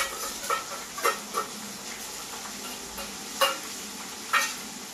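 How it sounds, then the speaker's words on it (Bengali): Ginger-garlic paste fries with onions in a pan, a low steady sizzle broken by several sharp scrapes and clinks of a spatula stirring against the metal. "পেঁয়াজটা ভাজা হয়ে গেল, এবারে দেবো মশলা। প্রথমে দিব আদা রসুন বাটা।"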